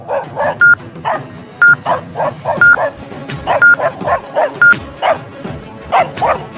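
A pack of wild dogs in an animated adventure story barks repeatedly in quick, overlapping bursts with occasional yips, loud and close, without talk.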